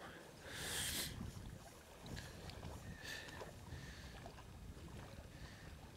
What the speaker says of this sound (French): On a vraiment un vent assez soutenu.